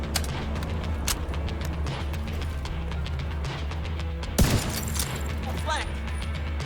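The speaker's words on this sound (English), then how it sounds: "Let's use a sniper rifle." Sniper rifle shots in The Division 2, with one sharp, loud crack standing out over a steady bed of in-game combat ambience and scattered fainter shots.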